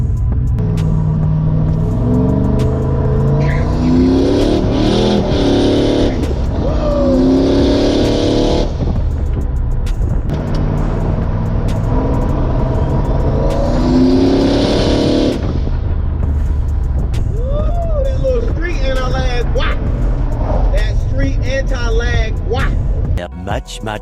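A turbocharged LS-swapped Nissan 240sx with a 4L80e transmission pulls at wide open throttle. The engine drones loud and close, rising through repeated revving surges and gear changes, with a voice speaking over it.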